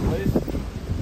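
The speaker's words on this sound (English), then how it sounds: "Fucking windy as shit." Strong gusty wind outdoors at Spring Valley Lake buffets the microphone with low rumbling bursts, loud and continuous across a brief moment.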